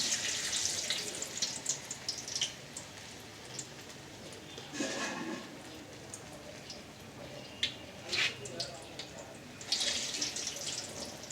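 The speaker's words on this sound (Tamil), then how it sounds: "இப்போ ஒரு வாணலியில் எண்ணெயை விட்டு அடுப்பை பற்ற வச்சு சூடு பண்ணிட்டோம்." Medu vada, urad dal fritters, frying in hot oil in a pan: a steady bubbling sizzle throughout, with a few louder crackling bursts and spatters standing out near the pan. No one speaks.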